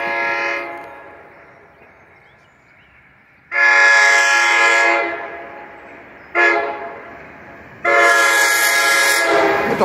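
A passing NJ Transit commuter train sounds its horn in long, loud blasts, two long and one short, with the rumble of the rail cars underneath.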